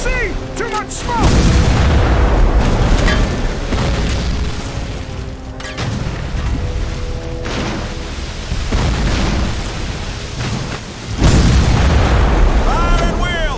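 Heavy booms from cannon mixed with crackling gunfire in a Civil War video game battle, loud and repeated over a long stretch, with shouting voices heard between the blasts.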